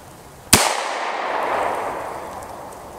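A single sharp gunshot from a .38 Special revolver firing a Federal Hydra-Shok hollow point, loud and close, followed by a long ringing outdoor echo that fades over a couple of seconds.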